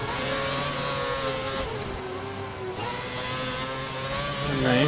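Formula 1 race cars roar in a racing video game at the 2011 British Grand Prix, with Schumacher's Mercedes pulling alongside; a loud, steady high engine whine shifts in pitch as a car closes in and passes.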